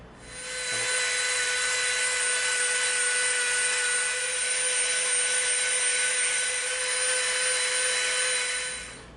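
A steady high-pitched rotary tool whine with a smooth bit grinding against soft EVA foam, continuous for several seconds with a constant hum underneath, no talking.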